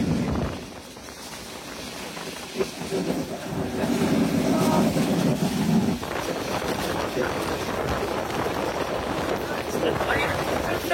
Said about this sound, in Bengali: আমাদের ট্রেনটি প্রায় 80 কিলোমিটার গতিতে